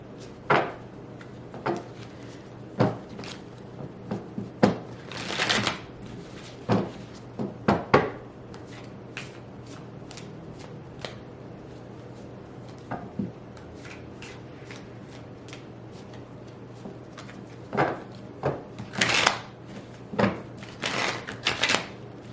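Tarot cards being shuffled by hand in repeated soft riffling bursts with brief pauses between, close and quiet, no talking.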